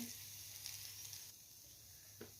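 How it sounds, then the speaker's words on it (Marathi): Roasted ground masala paste sautéing in a little oil gives a soft, steady sizzle throughout, fairly quiet, with one brief stirring clink near the end. "हे मी भाजकं वाटण टाकत आहे थोडंसं तेलात जरासं परतून घेते"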